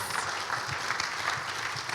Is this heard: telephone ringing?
no